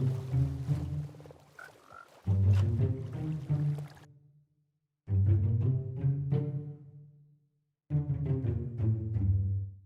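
Minecraft frogs croak at a crowded breeding farm in bursts of deep, throaty calls, with three loud clustered stretches separated by short silent gaps.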